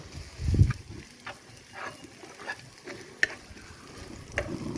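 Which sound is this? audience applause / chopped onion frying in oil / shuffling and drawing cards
chopped onion frying in oil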